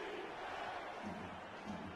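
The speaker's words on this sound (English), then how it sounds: "OKC's crowd getting loud, trying to will their team to a stop." Home crowd at Oklahoma City's stadium rising to a loud, sustained roar during a 3rd-and-4 defensive stand in a football game, a dense wall of cheering noise with no clear individual voices.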